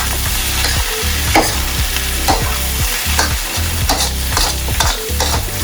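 Steak fried rice stir-fries in a pan over high heat, with a loud continuous sizzle and rhythmic scraping from the stirring. No voices.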